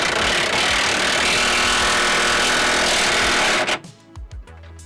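A wrench or ratchet tightens the bolt and nut on a rear control arm mounted to the subframe of a 1st or 2nd generation Subaru Forester, giving a loud, steady mechanical whirr that stops abruptly, followed by a few faint clicks.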